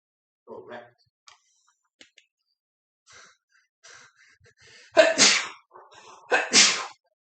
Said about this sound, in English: Sorry for the sneezing.